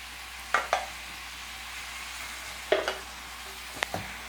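Marinated chicken going into a hot pan: a steady sizzling hiss broken by three bursts of spoon scraping and stirring against the pan, close and clear.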